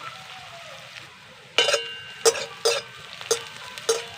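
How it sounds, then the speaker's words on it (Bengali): Onions frying in a pan give a faint, steady sizzle under several sharp metallic clinks and scrapes from stirring, spaced about half a second apart. "পেঁয়াজটাকে এবার ভালো করে কিন্তু ভেজে নেব"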